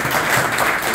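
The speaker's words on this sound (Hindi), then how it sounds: "भाई इनकी एनर्जी के लिए ताली होनी चाहिए।" Applause fills a farewell ceremony honouring three health workers, a loud, dense burst of many hands clapping together, heard briefly and close.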